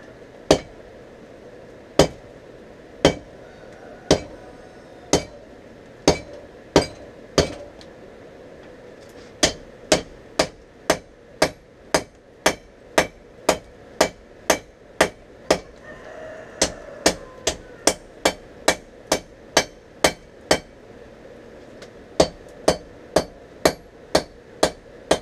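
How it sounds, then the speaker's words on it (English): Steel is hammered while forging a cable damascus knife blank, ringing blows striking loud and close, first spaced about a second apart, then speeding into steady rapid runs with brief pauses between series. "hammering out everything."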